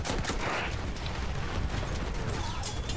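Pistol and other gunfire in the Battlefield 1 multiplayer battle, a dense, loud barrage of shots and explosions filling the whole stretch with no talk over it.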